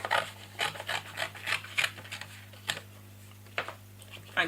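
Scissors snip and rasp around a sheet of card during handmade card-making, giving a close, quiet run of short irregular cuts and scrapes with brief pauses between them.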